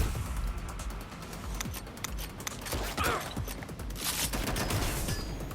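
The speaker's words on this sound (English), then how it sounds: "They're shooting at us!" Gunfire during a fight in the game Watch Dogs Legion, with a dense, continuous spray of shots and impacts over a constant rumbling game background, with no single shot standing clearly apart.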